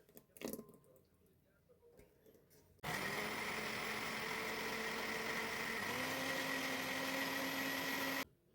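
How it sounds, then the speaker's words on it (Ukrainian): A blender whirs loudly and steadily for several seconds after a few quiet clicks, blending a liquid mixture for homemade condensed milk, its pitch shifting slightly midway before cutting off. "Тепер ця вся жижа йде в блендер."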